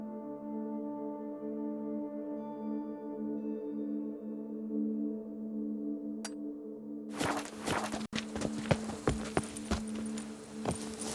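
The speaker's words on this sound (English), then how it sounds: "Run, Roach." Horse galloping in The Witcher 3 video game, a rapid run of hoofbeats that begins partway through after a sustained musical drone, loud and close with a rhythmic pounding.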